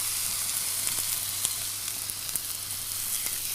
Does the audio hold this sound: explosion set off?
no